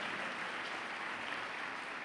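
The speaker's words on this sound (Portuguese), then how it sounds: "Quem está alegre aí, aplauda o nome do Senhor Jesus" A church congregation at a baptism service claps in a faint, even, continuous patter heard at a distance with no voices over it.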